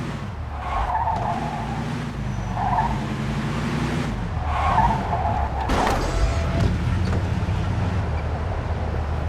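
A car in the Mafia 2 video game drives with a loud, steady engine note, and its tires squeal and skid in several long bursts as it turns.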